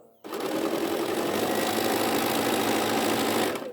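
A sewing machine stitches two fabric strips together for a heart quilt block, running in one steady, loud, unbroken whir from start to finish with no pauses.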